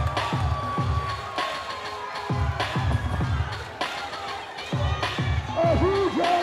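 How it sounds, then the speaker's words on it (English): An arena crowd at an Epic MMA bantamweight title fight cheers loudly and applauds after a split decision, a dense, sustained roar broken by rhythmic pulses of claps and shouts. "A huge round of applause for both fighters."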